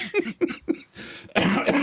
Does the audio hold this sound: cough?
yes